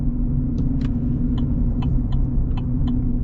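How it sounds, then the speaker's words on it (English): A 2025 Chevy Silverado Trail Boss with the Duramax diesel engine runs as a loud, steady low rumble from inside the cab, with a few faint light clicks over it. "you actually hear the engine a lot better. And it's a cool sound."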